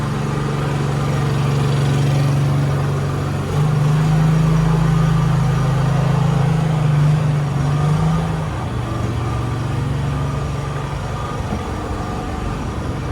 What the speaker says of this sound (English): Little Honda generator from Honest Engine